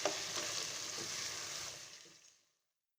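Mutton pieces being roasted with spices in a karahi for achari gosht give a steady, loud broadband sizzle with faint stirring scrapes, fading out toward the end before a brief final burst.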